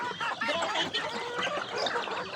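A flock of domestic chickens kept on an island farm clucks and murmurs all at once, a busy close chorus of overlapping calls with no talk.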